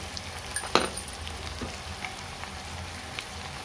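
Sliced onions fry in hot oil with a soft, continuous crackling sizzle, a sharper pop or stir near the start, then steady close frying sounds with no talking.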